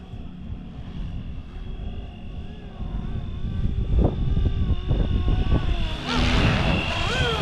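An RC AirWolf model helicopter from Fly Wing flies outdoors, its steady whirring rotor and motor drone holding throughout and swelling louder toward the end, with sharp transient clicks along the way.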